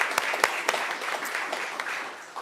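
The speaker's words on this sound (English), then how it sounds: "we'll give those other 2 employees a round of applause for 25 years of service." Applause at a city council meeting honoring employees for 25 years of service: a room of people claps steadily for a couple of seconds, sharp individual claps standing out over a dense, even patter.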